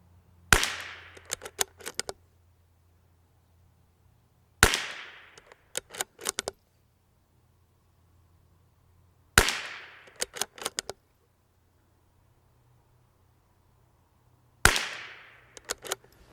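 A stock factory Bergara BMR X rifle fires four sharp shots at a target, evenly spaced a few seconds apart. Each loud crack rings briefly and is followed by quick clicks of cycling the bolt, with quiet in between.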